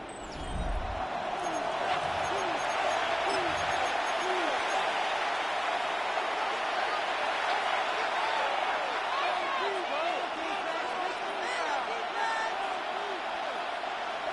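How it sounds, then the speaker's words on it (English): Steady stadium crowd roar from an EA Sports NFL football video game, Patriots at Bills in the fourth quarter, a dense continuous wash of cheering under commentary voices throughout. "The crowd making their presence felt."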